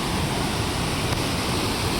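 The Phuljar river runs in flood after good rains, a steady, close, broadband roar of rushing water that holds even and unbroken with no speech.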